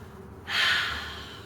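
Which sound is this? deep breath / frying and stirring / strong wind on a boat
deep breath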